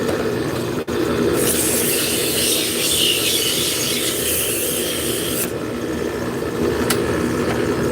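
Woodturning lathe spinning a spindle blank with heavy vibration, a loud steady rushing whine with harsh high scraping for a few seconds in the middle, no talking.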